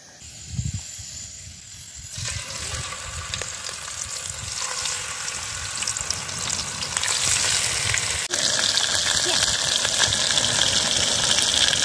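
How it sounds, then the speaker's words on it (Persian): Fish frying in a pan outdoors in a forest near Khomam, a steady close sizzle and hiss that flares louder after a couple of seconds and keeps building without pause. "بعد از این میریم واسه سرخ کردن ماهی"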